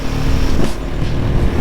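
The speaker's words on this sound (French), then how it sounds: "Cette moto c'est un plaisir quand elle démarre hein." A Husqvarna 701 single-cylinder supermoto starting, its engine sounding loud and close as a steady, rough, throbbing idle with a brief swell partway through, and no voices.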